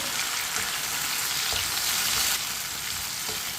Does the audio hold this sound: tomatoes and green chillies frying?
yes